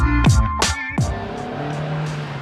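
A Honda S2000 with the top down passes close in quick whooshing bursts, followed by a steady engine drone.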